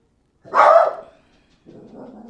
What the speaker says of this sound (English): What are you barking at out there?